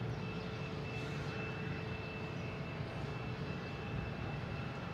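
A Spirit Airlines Airbus A321 takes off at Boston Logan International Airport, its jet engines a loud, steady, broadband roar with a faint high whine, continuous throughout.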